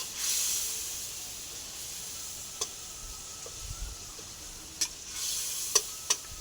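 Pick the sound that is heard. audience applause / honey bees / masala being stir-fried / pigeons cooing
masala being stir-fried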